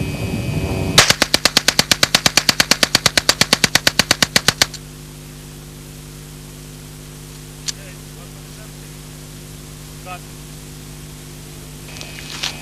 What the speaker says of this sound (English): in the fully automatic mode to see how the weapon performs